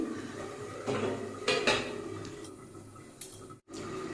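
A lid set onto a pot of rui fish curry with potatoes, a few metallic clanks and scrapes over a low simmering hiss.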